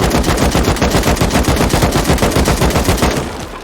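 Rapid automatic gunfire in the video game Rust, fired at a base to break it, a loud dense stream of shots that continues almost without pause and trails off at the end.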